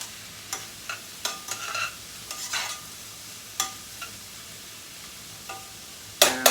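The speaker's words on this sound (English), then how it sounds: "as we're sauteing the mushrooms, just kind of bust them up a little bit with your" Mushrooms sauté over high heat while short tongs break them up, giving faint sizzling and intermittent clicks and scrapes, with a louder clatter near the end and no talking.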